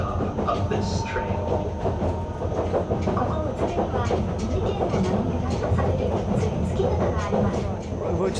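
Japan's narrowest narrow-gauge passenger train rolls along the rails with a steady rumble and rhythmic clickety-clack, heard from inside the carriage, loud and continuous throughout.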